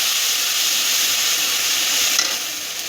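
Ginger, chilli and garlic paste hits hot oil in a pan and fries with a loud, steady, close sizzle and hiss that runs unbroken throughout.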